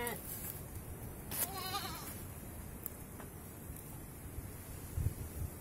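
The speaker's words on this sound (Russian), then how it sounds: "Вот такой у нас постоялый двор. С козочками да баранами." Goats and sheep bleat in a farmyard, with a few short, wavering calls at middling distance over steady wind noise on the microphone and a low background rumble.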